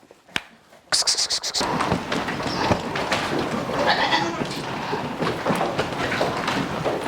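Red Kalahari goats bleating on a farm, several animals calling loudly and overlapping after a brief quiet start, with rustling and scraping around them.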